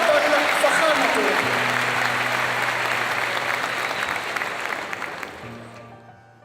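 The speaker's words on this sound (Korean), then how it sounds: "따뜻한 박수로 환영해 주시기 바랍니다." A large audience at Cairo University applauds to welcome the president, producing loud, sustained clapping that gradually fades, with a sustained tone underneath.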